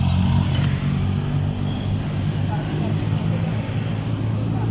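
Low road traffic rumbles around a car moving slowly through congestion near Angeles City, a steady muffled engine and tire drone heard from inside the cabin, with people talking over it.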